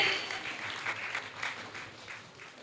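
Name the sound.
audience applause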